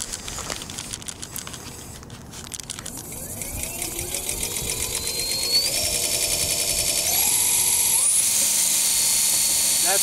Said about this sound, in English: That sound is all you hear at over 80 miles an hour.